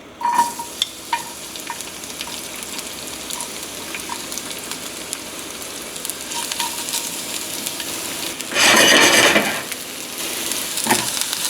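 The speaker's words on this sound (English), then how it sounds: "Then we're going to pan fry our garlic, jalapeno, and the whites of our green onion." Garlic pan-frying in oil, a continuous close crackling sizzle with scattered pops and a louder burst of spitting partway through, with no talk.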